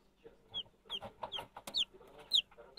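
High, thin peeps from newly hatched chicks, several short chirps spread irregularly over faint low clucking and soft background noise, close by.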